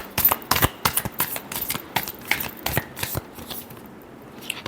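Tarot cards being shuffled for a reading, a run of crisp riffling flicks and slaps in an uneven rhythm, close and fairly loud, that thins out toward the end.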